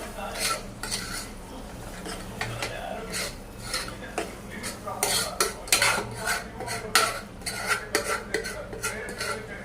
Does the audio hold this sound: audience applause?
no